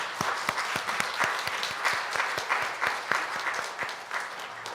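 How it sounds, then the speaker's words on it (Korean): A church congregation claps during a Sunday worship service, steady applause from many hands with a sharp rhythmic beat running through it, fairly soft and heard from a distance. "감사와 격려의 마음을 담아 박수 한번 해주시면 감사하겠습니다."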